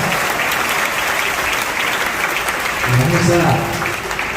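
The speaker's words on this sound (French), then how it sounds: "ovation pour Marc André" Parish congregation at a Saint-Jean de Cocody church jubilee breaks into a sustained ovation, dense steady clapping filling the whole stretch with a swell near the end, voices mixed in beneath.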